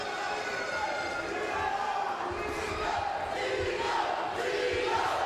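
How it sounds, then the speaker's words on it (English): Boxing crowd at Manuel Avila vs Sergio Frias chanting a fighter's name in a loud rhythmic roar that swells and repeats through the arena, with a commentator's voice faintly underneath. "Crowd chanting his name."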